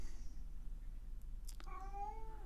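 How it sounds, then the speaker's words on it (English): A cat meows once indoors after a brief rustle, a fairly faint, drawn-out cry over a low steady hum. "Cat's here."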